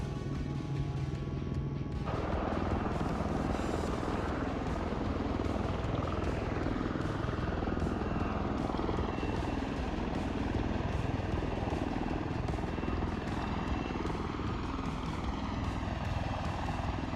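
Osprey tiltrotor aircraft in Microsoft Flight Simulator, a steady loud broadband rotor and engine drone that holds unbroken throughout, with a faint voice now and then underneath.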